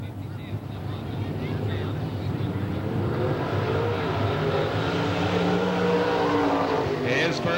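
Rocket chassis race car number 33 laps a speedway during qualifying at the 1993 STARS Hillbilly 100, its engine a steady loud roar that builds slightly over the lap while an announcer's voice talks over it.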